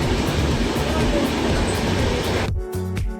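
Passengers ride in a general-class carriage of a train heading from Bolpur toward Digha, with a loud steady rumble that drops away near the end into quieter mechanical tones.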